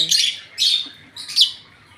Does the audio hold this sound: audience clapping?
no